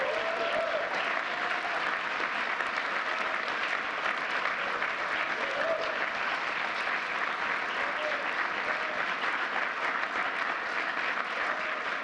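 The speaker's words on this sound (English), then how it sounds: "Let's give one more round of applause" Sustained applause from a large crowd, steady and dense clapping that continues without a break from start to finish.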